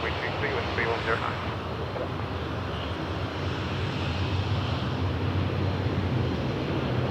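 Airliner engines at Toronto Pearson Airport roar steadily as a broad, continuous rumble held at a constant level for the whole stretch, with no voices over it.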